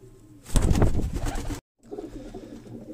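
A female Teddy and Sialkoti cross-breed pigeon coos close by in a short soft burst, followed after a brief gap by quieter cooing and low background murmur.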